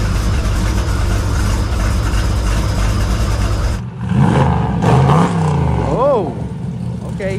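Someone's Dale truck roars loudly up close with its engine running hard, then drops to a rough idle broken by sharp revving bursts as people talk over it.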